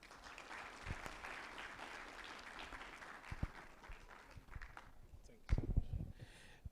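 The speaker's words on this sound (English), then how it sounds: "Please, we can do well with another round of applause." A university ceremony audience at the University of Abuja gives a round of applause after a provost's speech, steady mid-level clapping that rolls on for several seconds before thinning, with a few louder knocks near the end.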